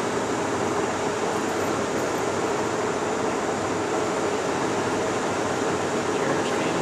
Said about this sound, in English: Crossline feeding. We're doing some feeds.